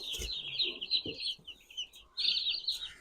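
Young turkeys on a farm give high, thin chirping peeps in sustained bursts close by, with soft clucks and rustling underneath and a short pause between the main calls.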